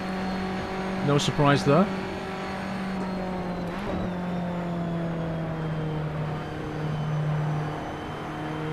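Formula Abarth race cars in Assetto Corsa crossing the finish line, with a sustained engine drone, sharp passing revs early on and a second whoosh later, under a short spoken remark.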